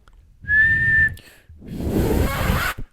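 A person whistles a single steady, high sustained note for about half a second, loud and close, followed by a burst of broadband noise like laughter or blowing.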